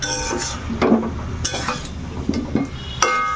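A spatula scrapes and clinks against a pan as mutton is stirred and sautéed, with intermittent metallic knocks over a soft frying hiss.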